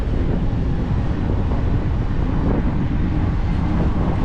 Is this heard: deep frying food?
no